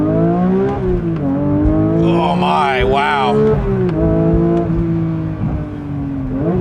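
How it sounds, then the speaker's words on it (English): Porsche 992 GT3 flat-six pulled at full throttle in first gear, a loud, rising engine howl that sweeps up through the revs, with a person exclaiming over it throughout. "First time full throttle in first gear in this car, so let's do it."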